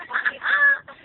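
A bird gives a short, harsh, clucking outdoor call, loud and close, lasting about a second, with no talking.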